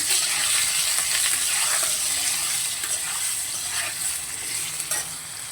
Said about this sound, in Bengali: এবারে আলুগুলো একটু ভেজে নেব।